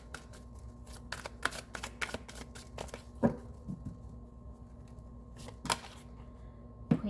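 Long tarot cards being shuffled and handled, giving a scattered run of soft, crisp clicks and flicks up close, with no talking.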